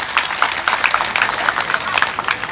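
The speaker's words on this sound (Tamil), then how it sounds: "ஒரு நல்ல கைத்தட்டு" Audience applause at a lively Tamil stage debate, a broad wash of steady clapping from a crowd filling the hall, with a few individual claps standing out over the continuous patter.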